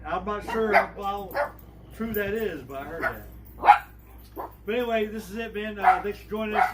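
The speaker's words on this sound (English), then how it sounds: "Sorry about the dogs; they're barking" Dogs barking at home in the background, faint and intermittent beneath someone talking steadily in the foreground.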